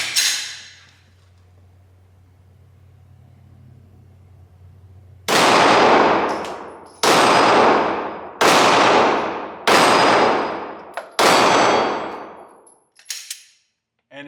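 Five loud, sharp 9mm shots from a Glock 17 pistol fired at a target at a steady pace, each ringing out and decaying, after a quiet low hum.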